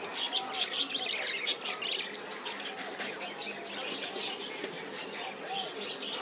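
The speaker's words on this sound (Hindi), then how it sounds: "चिड़ियों की आवाज़ें आ रही हैं" Many birds, including parrots, chirp and tweet continuously at moderate distance in Islamabad, a busy overlapping chorus with faint background noise.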